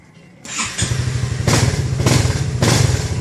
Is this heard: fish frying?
no